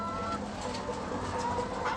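Hens clucking inside a German floor-raised poultry barn, many birds overlapping in a steady murmur of clucks and calls, with no voices over them.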